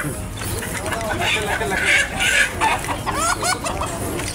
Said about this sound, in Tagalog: Yan o, manok ko.